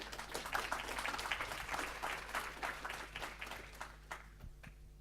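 An audience at a video game journalism conference applauds in a hall, dense clapping that is somewhat distant and low in level over a steady hum, then fades out near the end.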